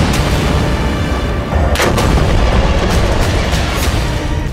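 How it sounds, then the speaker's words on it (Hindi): Bombs exploding over Gaza: loud, sustained rumbling blasts fill the whole span, with sharper bursts cracking through near the middle and again toward the end, no voices present. "वो बस सिनवार की मौत पुख्ता करने के लिए गाजा पर लगातार बम मारे जा रहा है।"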